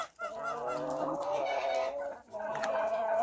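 Poultry clucking and honking at morning feeding in a farmyard flock of turkeys, a few chickens and a gander, a dense overlapping chorus of close calls with a short pause near the start and another before the end.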